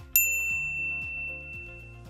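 A single bright notification bell dings sharply near the start and rings out, while low, soft tones continue underneath.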